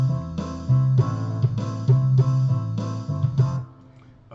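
Guitar jam backing track running at 100 beats per minute, with punchy strummed chords and a steady driving rhythm over bass, loud and continuous before cutting off near the end.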